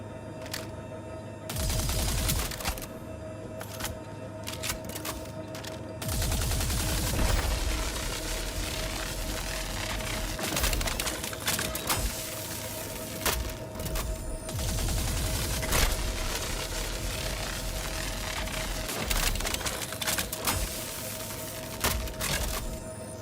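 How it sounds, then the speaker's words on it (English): Rapid bursts of gunfire in Star Citizen fill the space, dense and continuous, with repeated sharp shots layered over a steady mechanical hum and no pauses longer than a moment. "Alright, let's try shooting this bitch."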